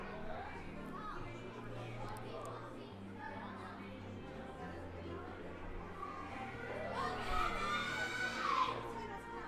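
A crowd cheers on a child competitor at a kids' ninja obstacle event, with scattered shouts and chatter swelling to a louder burst near the end, under an announcer's voice.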